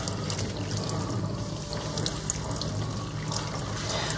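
Steady running water from a tap while a ponytail hairpiece is rinsed after coloring, a continuous close splashing flow without pauses.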